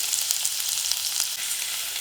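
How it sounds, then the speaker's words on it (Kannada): Chopped onion dropped into hot oil in a cooker for a tempering, sizzling and crackling steadily and close up with no voices. "ಎಣ್ಣೆ ಕಾದ್ಮೇಲೆ ಈರುಳ್ಳಿನ ಹಾಕ್ತಾ ಇದ್ದೀನಿ"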